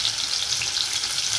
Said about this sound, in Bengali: কুমড়োগুলো দিয়ে ভালো করে কুমড়োগুলো ভেজে নেব